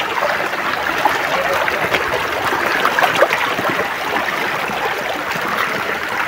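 Creek water flowing steadily as people cross it, a continuous broadband rush and trickle with no breaks, fairly close and moderately loud throughout.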